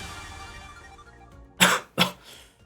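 Two sharp coughs in close succession from someone pretending to sleep, loud and near, after a stretch of low background hum.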